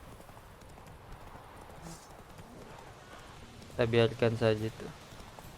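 Roach, the horse in The Witcher 3 video game, gallops in a short, loud burst of rhythmic hoofbeats near the end. Before that, someone speaks quietly over soft ambient background.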